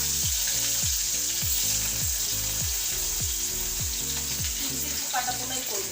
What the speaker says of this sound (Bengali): তেল দিয়ে দিলাম, মাছটা ভেজে নি